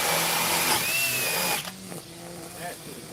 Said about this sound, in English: The turbo hammer drill. Speed 2 with the turbo on